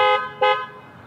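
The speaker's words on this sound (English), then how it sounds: "It just beeps the horn and flashes the lights." A 2021 Jeep Wrangler 4xe Rubicon horn, set off by the key fob panic button, gives two short, close honks in quick succession, the second slightly longer, then fades.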